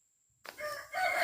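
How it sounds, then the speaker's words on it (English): A neighbor's chicken rooster crows after a moment of silence, a single loud, nearby cock-a-doodle-doo call with no talk over it. "I love listening to your chickens."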